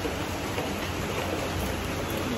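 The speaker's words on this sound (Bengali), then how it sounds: "ভালো জোরে বৃষ্টি পড়ছে" Heavy rain pours down in a dense, steady hiss that stays loud and unbroken throughout, with no voices.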